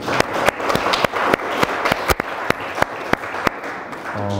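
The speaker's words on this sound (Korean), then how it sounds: "잠깐 박수 한번 치고 예배 시작할까요?" Korean church congregation clapping together before Sunday worship begins, a dense patter of hands with distinct sharp claps standing out, tapering off near the end as a few voices and a tone come in.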